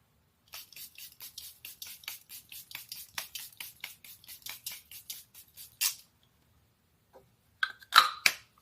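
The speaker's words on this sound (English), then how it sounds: "let's go ahead and spray our face" A rapid run of short, crisp hissing sprays of airbrush makeup setting spray onto a face, about twenty in a steady rhythm, then a pause and a few final bursts close to the microphone.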